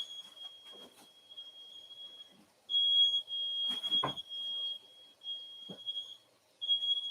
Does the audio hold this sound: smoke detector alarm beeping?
yes